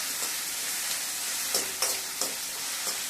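Tomatoes sauté in hot oil for a Tamil yam fry, giving a continuous close sizzle broken by several short scraping stir strokes, with no one talking.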